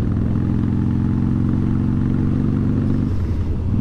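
A Harley-Davidson Sportster 1200 rumbles steadily while being ridden, its deep, loud, throbbing engine note holding constant before shifting slightly lower near the end.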